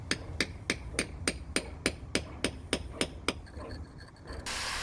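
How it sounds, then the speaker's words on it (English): Sharp regular taps of a lump hammer striking a chisel to chip out old soft lime mortar from brick joints in heritage restoration work, about eleven evenly spaced close blows followed by a brief scraping rustle. "A lump hammer and chisel can be used to gently remove the existing mortar."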